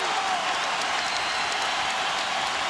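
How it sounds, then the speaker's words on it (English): Basketball arena crowd on its feet during a Lakers–Rockets game, a dense, steady roar of cheering and applause filling the space without a break. "Crowd on its feet."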